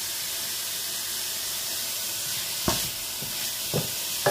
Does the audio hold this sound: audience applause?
no